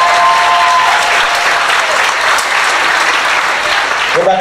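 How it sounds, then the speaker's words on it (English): A comedy club audience at the Houston Improv gives a loud, sustained burst of clapping for a military veteran. The dense applause stays close and full throughout, with a brief voice rising at the very end. "Get that brother a big round of applause"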